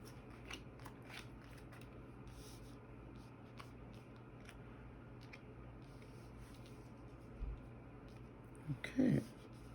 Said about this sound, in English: I will go ahead now and just spread the cards how I intend to read them and pull them